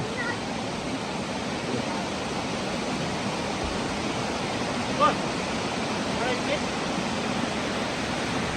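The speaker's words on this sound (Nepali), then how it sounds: "यही खोलाको पानी बगेर त्यहाँ गएर झर्ना बनेको रहेछ।" Steady rushing water, a broad continuous roar of a waterfall fed by a flowing stream in Scotland, close and constant throughout with no breaks.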